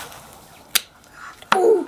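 Two sharp snaps as quail leg joints are trimmed off during butchering, one brief crack then a louder one followed by a short scraping rustle, close up.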